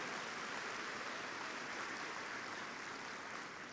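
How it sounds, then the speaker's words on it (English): School district convocation audience clapping for secondary school counselors, a fairly faint, even wash of applause heard from a distance throughout. "Yeah, give them a round of applause"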